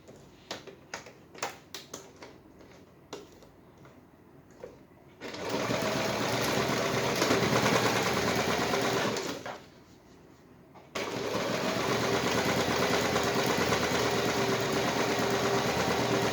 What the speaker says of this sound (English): now start sewing from the bottom